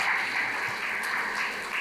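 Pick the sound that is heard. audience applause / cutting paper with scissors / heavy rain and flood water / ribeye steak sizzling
audience applause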